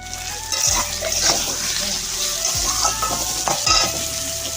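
Potatoes sauté in oil with cumin seeds, a steady close-up sizzle with repeated scraping stirs of a spatula through the pan, loud and continuous.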